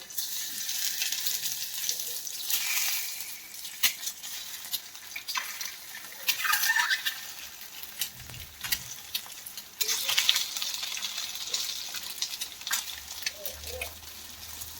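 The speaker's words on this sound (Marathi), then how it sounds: "इथे आपण आता तवा ठेवलेला आहे, ते गरम झालेलं आहे। थोडंसं तेल टाकायचे आणि हे अंडे असे" An egg fries in a little oil on a hot tava griddle, giving a soft, continuous close sizzle with light crackles and small spits throughout.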